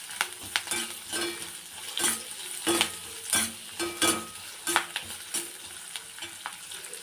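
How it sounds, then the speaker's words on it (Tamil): Curry leaves and potato mixture sautéing in a pan for potato podimas, stirred repeatedly: a soft background sizzle broken by rhythmic scraping and tapping strokes, close and unaccompanied by speech. "இப்போ இதை நல்லா கலக்கி விட்டுருங்க. ஒரு அரை நிமிஷம் வதங்கினா போதும்."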